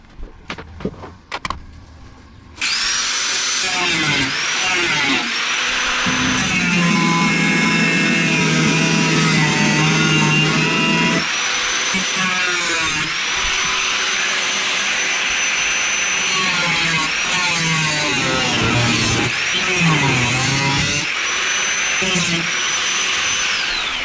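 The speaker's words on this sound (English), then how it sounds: "I've got the cutter, I'm going to cut these bars and move on." A few sharp knocks, then a power cutter whines loudly through metal bars for a long stretch, its pitch dipping and rising as it bites, during a VW LT32 campervan conversion.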